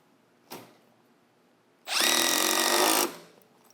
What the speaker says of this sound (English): Let's see what speed 3 delivers.